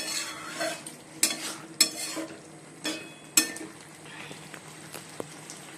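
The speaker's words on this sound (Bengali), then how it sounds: "এই জন্য একটু সুজি করব, তা সুজিটা ভেজে নিচ্ছি।" Semolina (suji) frying in a pan gives a soft, continuous sizzle, with sharp spoon-on-pan scrapes and clinks of stirring recurring at irregular intervals up close.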